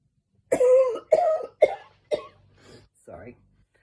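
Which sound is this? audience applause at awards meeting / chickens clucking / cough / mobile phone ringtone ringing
cough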